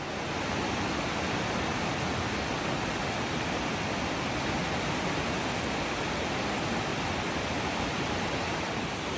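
The Elwha River rushes below a bridge in Olympic National Park, a dense and constant roar of whitewater that stays steady and fairly loud throughout.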